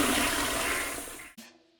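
Toilet flush rushes loudly and steadily with broad watery noise, then cuts off abruptly and is followed by a short gurgling refill tail.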